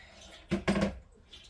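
Damp, freshly scoured yarn squeezed by hand to press the water out, giving two short, soft squelching bursts close by against a quiet background.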